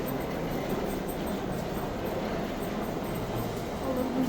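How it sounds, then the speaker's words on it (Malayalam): Steady rumble of a Barcelona metro train running, a continuous loud rail and motor drone with no clear breaks, filling the whole moment. "ഈ ബാഴ്സലോണയിൽ നിന്ന് നമ്മൾ ഹോട്ടലിലേക്കുള്ള മെട്രോ പിടിക്കാൻ പോവുകയാണ്"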